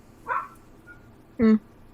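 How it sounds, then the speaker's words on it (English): Neighborhood dogs barking twice at a distance, a short muffled bark followed about a second later by a louder, sharper one, with quiet background between. "I have no idea what my dog, the neighbor dogs are barking at."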